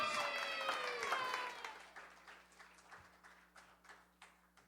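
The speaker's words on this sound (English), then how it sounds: "Let's give her a nice round of applause" Audience at the finals of the 32nd annual singer-songwriter competition claps after a performance, applause fading out under lingering ringing tones, leaving a few scattered individual claps toward the end.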